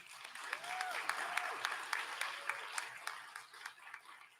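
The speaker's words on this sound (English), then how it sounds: "Please give another round of applause for the awardees." Audience at a graduation and awards ceremony applauds the awardees, a moderate, even stretch of clapping with a few distinct sharp claps and faint voices mixed in.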